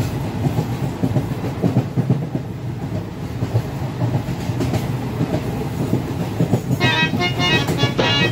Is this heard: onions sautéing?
no